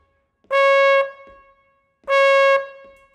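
Trumpet in a brass-band street style playing a phrase, two loud, clear held notes with short trailing tails, separated by a pause, played alone.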